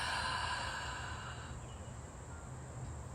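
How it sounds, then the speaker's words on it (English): One slow Ujjayi yoga inhale drawn through a narrowed throat makes a faint, airy hiss lasting a few seconds, heard close and alone. "On the inhale, it might sound like this."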